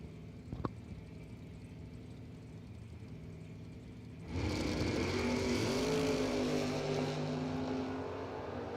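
A Chevrolet Nova and a Corvette launch side by side at a drag race, a low rumble at idle suddenly bursting into a loud, sustained engine roar that holds for several seconds, close and without talk.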